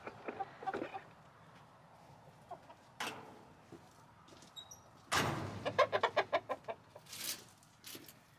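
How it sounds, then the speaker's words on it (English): Chickens cluck and squawk intermittently nearby, ending in a quick burst of repeated clucks, with faint rustling and a few thumps in between. "My chickens are so skittish."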